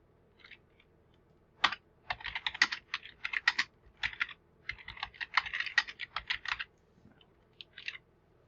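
Quick bursts of typing on a computer keyboard, clicking keys in short irregular runs with brief pauses, close and fairly quiet.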